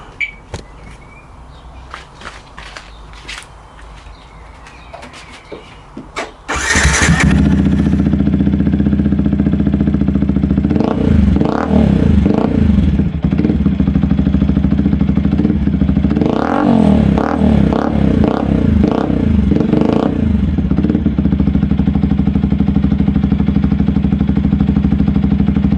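A 125cc motorcycle fitted with a Leo Vince slip-on exhaust starts up close by and then settles into a loud, steady idle, broken by two clusters of sharp throttle blips.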